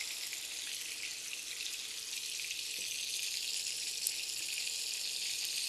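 Fish frying in oil in a pan over a low flame, a continuous bright sizzling hiss that stays steady and close throughout with no talk.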